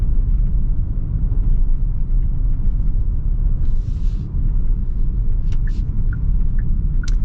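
Genesis GV70 3.5T accelerating in Sport Plus mode, heard from inside the cabin as a steady low rumble of engine and road noise, even and continuous, with a few faint clicks near the end.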